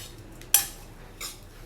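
A spoon scrapes and clinks against a pot while stirring ghee rice with fresh coriander, two short metallic knocks standing out over a quiet background.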